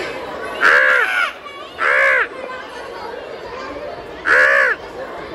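A crow caws three times, with two harsh calls close together and a third after a pause, fairly near, over faint outdoor background noise.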